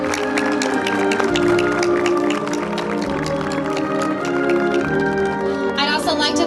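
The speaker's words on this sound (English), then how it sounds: "Let's give them all a round of applause." Audience applause at an evening Ste. Genevieve Municipal Band concert in Missouri: dense, steady clapping fills the space over lingering sustained band tones, growing slightly brighter near the end.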